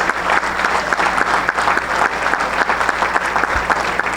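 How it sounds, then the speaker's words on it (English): A crowd at a baseball coaches' hall of fame induction ceremony gives a steady, loud round of applause, dense clapping sustained throughout with no voices over it. "let's give these coaches a round of applause for all their accomplishments and their victories"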